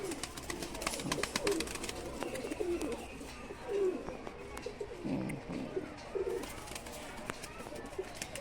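Teddy pigeons kept by a breeder cooing in soft, repeated low calls, several birds close by, with someone talking intermittently over them.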